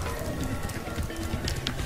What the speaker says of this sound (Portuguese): Até chove, meu.